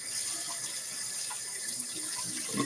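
Water pours steadily into the bottom section of a water bottle with a continuous hissing splash, close by and moderately loud, and no voices are heard.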